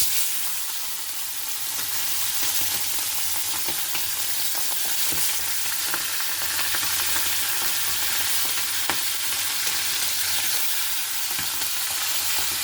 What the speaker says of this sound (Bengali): আমি একে একে মাছগুলো সব ভেজে নেব